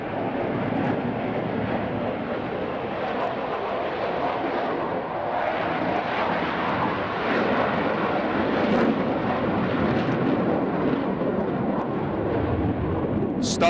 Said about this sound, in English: in his Eurofighter Typhoon FGR-4. This is the RAF's latest combat aircraft.